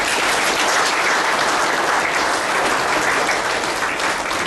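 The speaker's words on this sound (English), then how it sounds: "Give a big clap for Buddha." Loud, dense applause from a large audience, a thick continuous roar of clapping that holds steady throughout without any voices.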